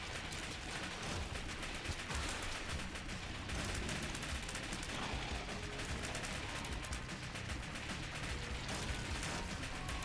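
Rapid shooting in The Binding of Isaac: Afterbirth+, a dense, continuous barrage of loud projectile fire with game noise layered over it, holding steady for the full ten seconds with no pauses.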